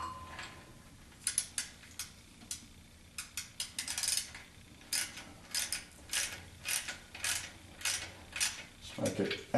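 Ratchet tightening a fastener on the power steering pump of a 1976 Corvette restomod, a quiet series of irregular metallic clicks and ratcheting bursts, close and fairly faint.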